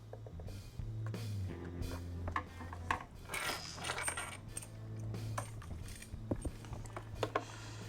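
Small metal parts of a desoldering station clink and ratchet as a part and washer are screwed onto its front, with a steady low hum underneath and scattered close clicks and taps.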